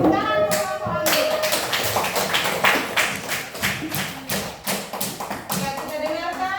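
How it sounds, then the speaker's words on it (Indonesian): A classroom of children bursts into applause for a student group, the clapping dense and close with a teacher speaking over it. "Tepuk tangan untuk kelompok anggur."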